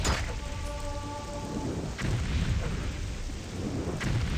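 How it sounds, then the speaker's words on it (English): Rain pours steadily through a lightning storm in a fantasy video game, with sharp thunder cracks at the start, midway and near the end over a constant rumbling wash. "Ooh, scary lightning."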